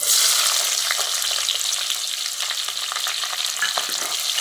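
Loud, steady sizzling of finely chopped shallots frying in a hot pan, with crackles and occasional stirring scrapes throughout.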